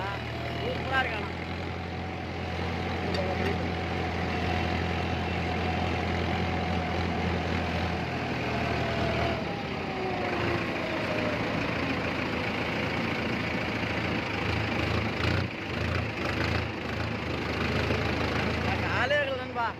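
A Mahindra Novo 605 DI tractor engine runs steadily while driving, a continuous low rumble with a gear change partway through, under people talking.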